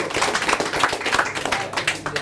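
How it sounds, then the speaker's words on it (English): Audience applause at a sales seminar: a dense, steady patter of many hands clapping at close range for about two seconds, rising and falling slightly with no clear break. "Give him a round of applause for that for remembering well done."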